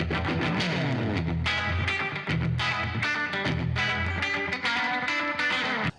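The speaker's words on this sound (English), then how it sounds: "Even though it can do a mean slapback echo." An electric guitar runs through a Hangman FX pedal set for slapback echo, distorted chords and notes repeating with a short, tight doubled echo, loud and continuous with no talk.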